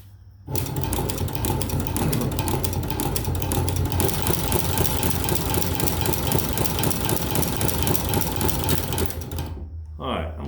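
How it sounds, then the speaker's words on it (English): A walking foot leather stitching machine runs alone at a steady, fast mechanical clatter, loud and close, starting abruptly and stopping near the end. "This little machine got a pretty good solid drive to it. So I'm just gonna run a little stitch here."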